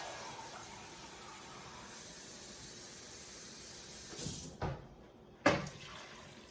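Two cups of water pour steadily into a pan in a home kitchen with a continuous hissing splash, then stop, followed by a couple of short knocks.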